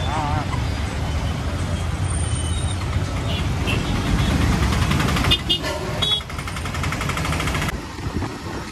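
Dense road traffic heard from a motorbike on a ride from the Nilgiris toward Kerala: buses, trucks and cars rumble and hiss close by in a steady loud wash, with brief air-brake-like bursts and a sudden drop in noise near the end.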